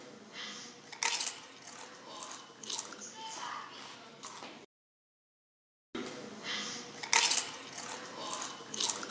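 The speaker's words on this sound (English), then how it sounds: "This is the sound of eating food." Close-up crunchy bites and chewing of food in irregular bursts, broken by a second or so of silence before more crunching resumes.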